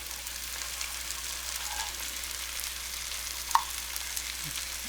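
Sausages and onion sizzle in a frying pan, a steady close hiss and crackle with a single brief clink of utensil partway through.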